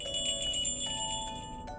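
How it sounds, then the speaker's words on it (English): Bells ring out in the video game Yuppie Psycho, bright sustained chiming tones struck a few times over a steady drone, fairly loud and with no voices. "Remember the bells we found in the crypt?"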